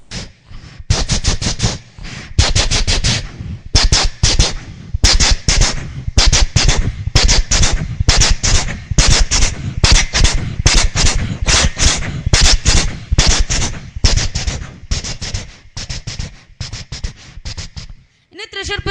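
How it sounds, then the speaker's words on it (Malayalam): Fireworks at the Thrissur Pooram festival go off as a loud, rapid volley of sharp cracking bursts. The barrage runs nearly continuously for about eighteen seconds before stopping abruptly. "ഇന്ന് തൃശൂർ പൂരത്തിന്റെ വെടിക്കെട്ട്."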